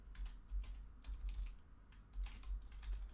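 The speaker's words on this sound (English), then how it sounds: "we type in a name" Typing on a computer keyboard while adding a name to a new page in an HTML editor; soft, quiet clusters of keystrokes in short bursts, with no talk.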